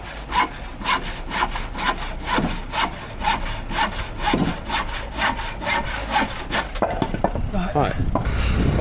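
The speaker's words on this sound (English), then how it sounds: "sitting there in public, sawing a sleeper in half" A handsaw cuts through a thick wooden railway sleeper in steady, rhythmic strokes, close and loud, before the sawing stops and some shuffling and knocking follow.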